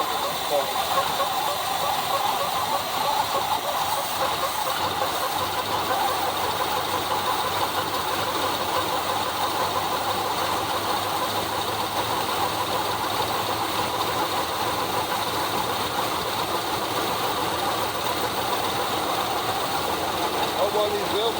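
A 1976 GMC Sprint engine runs steadily after starting, a continuous loud idle with hissing and knocking texture throughout, a voice talking over it at times.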